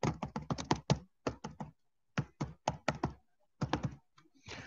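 Close, crisp keystrokes on a computer keyboard come in quick bursts separated by short pauses, with rapid clicking clusters and a few lone taps against an otherwise quiet background.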